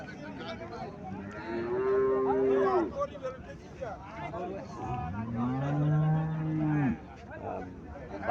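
A Haryana cow and her Sahiwal bull calf low in two long, loud moos close by, with faint voices and a busy livestock market in the background.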